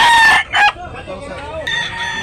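A rooster crows loudly nearby, a shrill rising call, followed by softer clucking and a second crow in the background.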